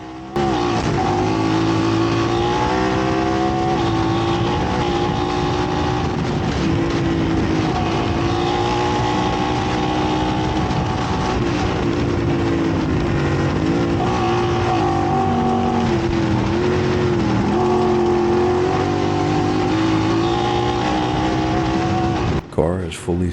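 The stock engine of a Talon X side-by-side drones and revs loudly and steadily while racing in a 12-hour off-road race. The engine sound is continuous and close, and a voice talks over it at times.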